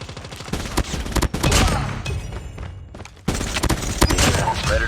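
LMG and pistol fire in the mobile shooter game Call of Duty Mobile, loud rapid bursts of shots with a brief pause before another volley.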